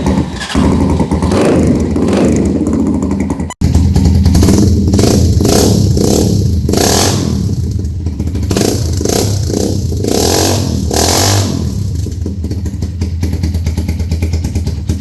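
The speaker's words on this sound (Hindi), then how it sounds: "तो ये आपने सुना एक्रापोविक का साउंड।" Superstar 200cc motorcycle fitted with an Akrapovic exhaust, loud and close, starting after a brief cut and then revving repeatedly in sharp bursts over a rough, clattering idle.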